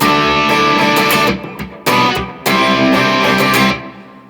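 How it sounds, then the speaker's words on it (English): An electric guitar intro is played on a PRS Custom 24 through a Wampler Tumnus Klon-style overdrive pedal, giving a crunchy rock tone. Loud sustained chords are cut by a couple of brief stops before ringing out alone. "I'm using a Wampler Tumnus, which is a like Klon type overdrive pedal to get that kind of rocky kind of sound"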